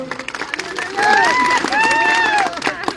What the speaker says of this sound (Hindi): ताली बजाइए लोग